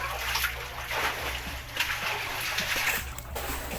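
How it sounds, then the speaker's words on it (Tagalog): Floodwater sloshing and splashing inside a flooded house, with steady watery splatters and swishes close by, some louder splashes standing out through the clip. "Grabing baha guys ng bahay namin"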